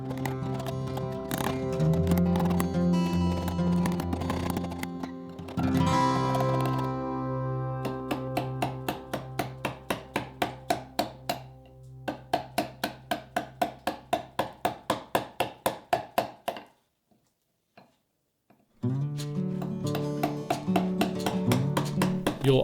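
A large gouge chops out the bowl of a wooden stool seat in a quick run of evenly spaced, sharp strikes, with tonal music playing around them and a short silent gap near the end.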